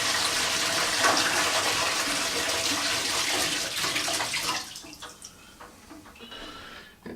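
Water rushes steadily from a siphon tube draining into a sink after homebrewing dry-hop gear is rinsed, a loud continuous gush that thins out into scattered drips and trickles near the end.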